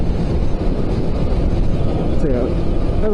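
A motorcycle rides down the Gold Coast Highway on the M1 motorway, a loud steady engine drone buried in heavy wind rush, with someone talking over it throughout.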